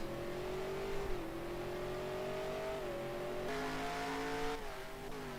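A Formula 1 car engine in the F1 2021 video game revs steadily with a droning, rising-and-falling pitch, loud and continuous, shifting gears a few times.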